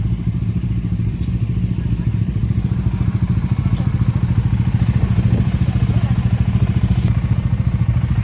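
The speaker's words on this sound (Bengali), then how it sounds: "বাইক বের করেছে।" A motorcycle is wheeled out and its engine runs with a steady, close, loud mid-pitched putter and some clatter. Outdoor voices talk over it during a day trip in Purulia.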